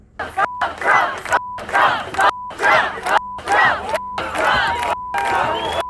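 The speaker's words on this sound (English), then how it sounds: "this is just apparently the crowd chanting to F Trump" Protest crowd chanting in the streets of New York, a loud rhythmic chant repeated in regular bursts with shouting voices, while a steady electronic tone recurs in the gaps between phrases.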